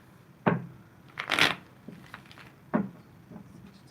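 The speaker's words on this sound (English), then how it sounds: "one more shuffle. That was a really bad shuffle." Tarot cards being shuffled by hand during a reading, heard as two sharp riffling bursts with a longer papery flutter between them, close and fairly quiet, with no voices.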